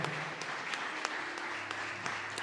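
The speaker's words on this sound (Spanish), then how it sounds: "Dele ese aplauso fuerte a Él" A church congregation applauding, faint and somewhat distant, with a soft bed of clapping and a few sharper individual claps standing out at irregular intervals.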